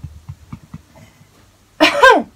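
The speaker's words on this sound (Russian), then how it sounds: "Откашливаться надо." A single harsh cough or throat-clearing bursts out loudly near the end, following a stretch of soft, low murmuring sounds.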